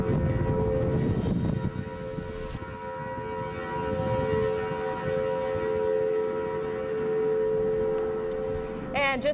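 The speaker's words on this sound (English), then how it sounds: "we heard the sirens going off in Shelby County there in Tennessee, just north of Memphis, under a tornado warning" A long, steady civil defense tornado siren drones from a distance in Shelby County, Tennessee, during a tornado warning, over rumbling background noise, holding a sustained tone throughout.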